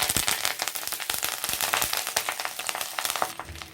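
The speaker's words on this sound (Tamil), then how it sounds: "புளியும் இஞ்சியும் நல்லா வதக்கிட்டு எடுத்து வச்சுக்கலாம்." Tamarind and ginger sauté in hot oil for a curry leaf thokku, giving a close, steady sizzle with dense crackling pops throughout.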